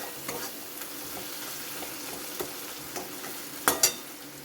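Koi fish frying in hot oil in a pan for a Bengali tel jhal, stirred with scattered soft scrapes over a low steady sizzle and two sharper clinks near the end.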